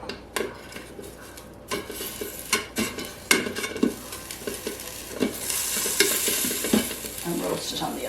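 Pork tenderloin being turned in an Instant Pot air fryer: close, irregular clatters and scrapes of a utensil against the pan, with a light sizzle rising toward the end.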